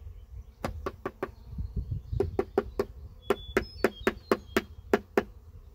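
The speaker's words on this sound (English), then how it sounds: "a lot more bees are flying around" Honey bees hum in a low buzz around a hive fitted with a deep super and feeder, nearby, with a series of sharp knocks ringing over the buzzing.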